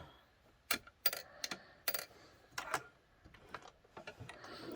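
A sewing machine stitches a throw pillow in short, quiet bursts of rapid mechanical clatter separated by brief pauses, close by, with no talking.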